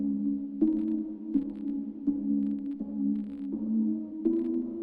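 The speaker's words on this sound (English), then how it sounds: "I'm only using Underwater Kingdom from Trance Universe pack inside Nexus 3" A Nexus 3 synth plays the Underwater Kingdom preset from the Trance Universe pack, a single layered tone repeating a melody in evenly spaced notes about every three quarters of a second, moderately soft and alone.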